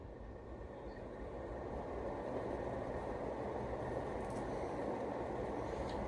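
A Casablanca Four Seasons 37-inch ceiling fan runs on its high setting, a steady, soft broadband whoosh of moving air that swells slightly and then holds even, with no voices.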